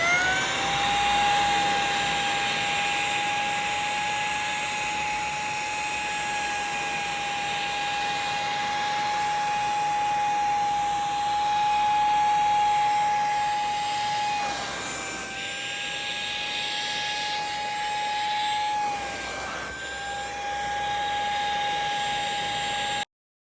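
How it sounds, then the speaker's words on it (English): A handheld mattress bed vacuum runs steadily at close range, a loud, even motor whine with a sustained high tone, briefly dipping twice near the end before cutting off. "Or you gonna get you this bed vacuum right here?"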